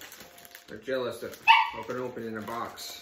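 Small dogs barking and yipping in quick bursts close by in a home, heard under a person talking.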